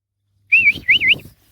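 A pair of birds, male and female, near their nest by a tree trunk gives two close bursts of bright, warbling whistled chirps, the second rising and falling in quick loops, over a faint low rumble.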